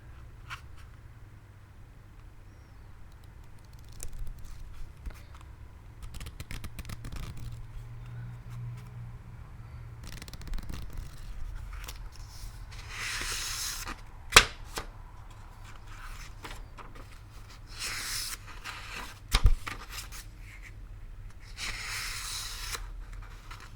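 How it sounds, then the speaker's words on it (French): Soft rustling and crinkling of paper pages being turned comes and goes, with a few sharper snaps and crisp swishes, close and quiet with no talking. "J'aime bien aussi le bruit du papier."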